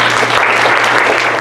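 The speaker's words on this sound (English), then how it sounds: "A big round of thank you applause for all of you for staying with us today." A concert audience at a Guru Lalgudi birthday celebration in San Francisco applauds steadily, a dense, even wash of many hands clapping at once, loud and sustained throughout.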